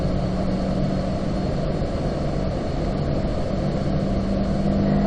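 A Chevrolet Camaro accelerates on the Spring Mountain race track, heard as a steady, loud in-car engine drone with heavy low rumble. The engine note holds fairly even throughout, with no talking.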